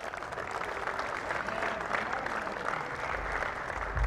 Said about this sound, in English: Team Sharjah, round of applause for them,